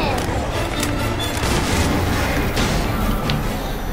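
Gunfire in Left 4 Dead 2 on a custom map, a dense wash of shots and booming blasts that runs steadily under the chaotic game noise.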